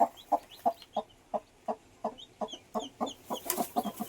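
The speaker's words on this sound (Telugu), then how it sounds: "ఈమె దగ్గర పియం పియం అనే సౌండ్లు వస్తున్నాయి" Rapid, rhythmic clucking from a hen close by, with high, thin peeps from chicks scattered through it.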